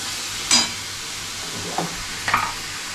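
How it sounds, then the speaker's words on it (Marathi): Onion sizzles in a pan while a spoon stirs it, giving a low steady frying hiss and two or three brief scraping strokes against the metal. "कांदा आपल्याला लाल करायचं पूर्ण."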